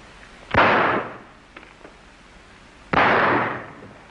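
Two sharp gunshots ring out in a 1933 western film, the first near 0.6 s and the second near 2.9 s, each a loud crack with a short decaying tail, with faint rustling in between.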